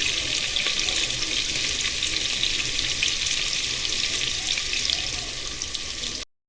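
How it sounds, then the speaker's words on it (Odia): Potatoes frying in hot oil for a home-cooked Odia mutton dish, a steady, loud, close hiss of bubbling oil that holds evenly throughout before cutting off abruptly at the end. "ଆଳୁ ଭଜା ହେଉଛି"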